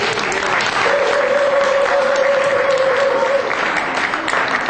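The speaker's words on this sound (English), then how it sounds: "Give her a round of applause." Audience applause for a woman brought up to speak at a gathering, a dense, steady burst of clapping close and loud from start to finish, with a sustained tone faintly underneath.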